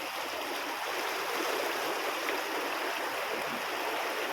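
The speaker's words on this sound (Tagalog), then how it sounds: "Yan po yung aming ilog." A river flows steadily at the far end of Lawasan, running high and reaching up to the bridge. The broad, continuous rushing wash stays close and even throughout, and no voices are heard.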